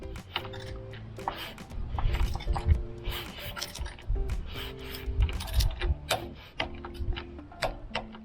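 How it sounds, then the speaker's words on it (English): Close, uneven ratcheting clicks and metallic ticks from a smaller torque wrench fitted with a 6mm Allen key, tightening a crash bar attachment bracket bolt on a 2023 Triumph Tiger 900 GT Pro motorcycle, in short bursts without speech. "On the attachment bracket, I use a 6mm Allen key on a smaller torque wrench."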